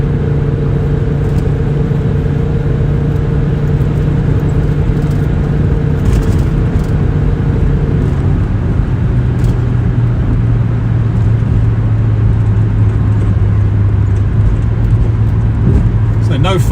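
A 1997 Volvo 850R estate automatic runs with a loud, steady low engine drone; the pitch shifts down partway through as it settles, with no sharp revving bursts.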